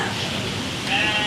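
Goat bought for the Eid sacrifice gives a short, nasal bleat near the end, following a brief stretch of outdoor background noise.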